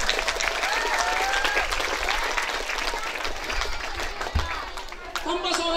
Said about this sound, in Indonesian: Tepuk tangan untuk para ibu.